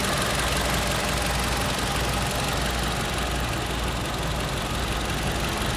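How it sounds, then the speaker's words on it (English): A 2015 Toyota Camry's VVT 4-cylinder engine idles up close under the hood, a steady, loud, dense mechanical hum with a fine rapid ticking and slight vibration, unbroken and with no voices. "you're going to have a slight amount of vibration in any VVT 4-cylinder engine"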